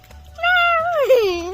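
A single drawn-out cat meow, rising then bending downward at the end, close and clear against a quiet background.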